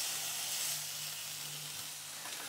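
Steady, close sizzling of steak frying in a hot pan, a continuous crackling hiss with no voices.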